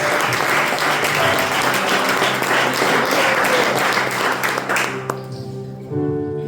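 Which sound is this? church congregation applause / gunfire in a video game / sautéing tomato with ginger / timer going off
church congregation applause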